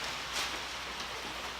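Rain falls outside a home garage as a steady, soft hiss of drops on surfaces, constant and moderately quiet throughout.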